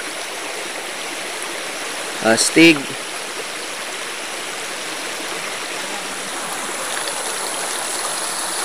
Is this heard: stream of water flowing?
yes